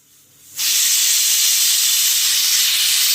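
A loud, steady hiss of steam bursts out suddenly after a quiet moment and keeps blasting without a break, like a pressure cooker whistle venting.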